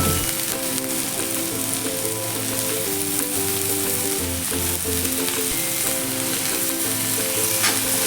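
Onion, green chili and chopped tomato sizzle steadily in a pan for paneer bhurji, with a constant close frying hiss under a looping background music track.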